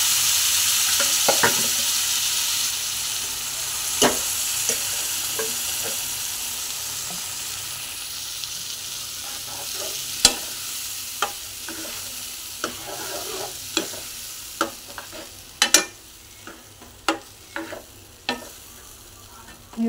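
Cooked whole masoor lentils are stirred into frying masala, a steady sizzle under intermittent sharp spoon scrapes and taps on the pan that grow more frequent toward the end.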